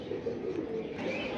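Pigeons coo softly in a low, murmuring drone, faint and continuous, with no voices present.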